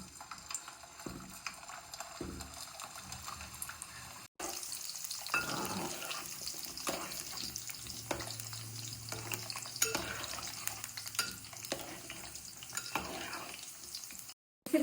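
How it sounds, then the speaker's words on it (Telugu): Amla, Indian gooseberries, fry in oil with a soft, fairly quiet sizzle mixed with watery splashing and occasional clatters, cut by a brief dropout near the start and another near the end. "ఉసిరికాయని ఇలా గోల్డెన్ కలర్ వచ్చేంత వరకు వేయించుకోవాలి."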